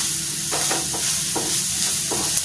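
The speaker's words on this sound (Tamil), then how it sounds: "ஸோ வெங்காயம் வதங்கிட்டு இருக்கு" Onions sautéing in a pan for egg fried rice, giving a steady close sizzle with repeated scraping stirs at a fairly regular pace, no voices.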